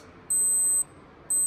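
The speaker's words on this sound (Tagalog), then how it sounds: "That is timer, guys." A Casio Pro Trek Titanium PRT-B70T watch timer sounding off: two shrill, high electronic beeps, the first lasting about half a second and the second starting as the clip ends, close and clear over quiet room tone.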